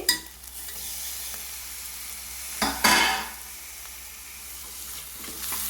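Ginger garlic paste and tomato fry in a pan for a capsicum curry, a soft continuous sizzle with a loud burst of hissing spatter partway through as ingredients hit the hot oil, then settling back to a gentle fry.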